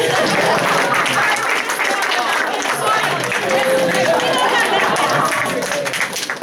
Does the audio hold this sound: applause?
yes